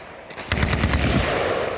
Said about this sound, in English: I got to shoot a machine gun